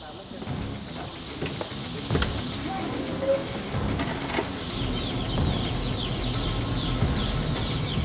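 Chickens raised for samgyetang cluck in a busy indoor hatchery, their calls scattered over a steady mechanical hum, with a voice speaking over the top.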